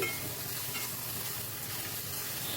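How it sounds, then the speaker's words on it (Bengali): Panch phoron and ginger paste stirred in hot oil, a loud, dense, continuous sizzle heard close up with no voices. "এবার ওই তেলে আমি দিয়ে দিচ্ছি হাফ টেবিল চামচ মতো পাঁচ ফোড়ন আর দিয়ে দিচ্ছি এক টেবিল চামচ আদা বাটা দিয়ে একটু নাড়াচাড়া করে নিচ্ছি"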